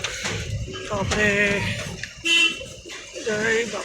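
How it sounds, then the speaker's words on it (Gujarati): A goods delivery truck near a village temple at Makiya, Dholka, sounds a short, loud horn toot amid engine noise, with people talking around it. "તો હોર્ન મારી દીધો છે આપણે."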